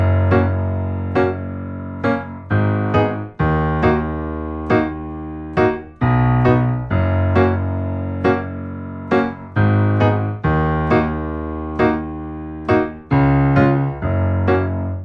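Piano plays the verse riff of "Ride" by twenty one pilots, with steady bass notes and off-beat chords repeating in a bouncy rhythm, clear and solo throughout.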